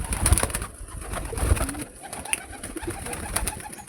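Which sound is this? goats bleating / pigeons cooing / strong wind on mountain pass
pigeons cooing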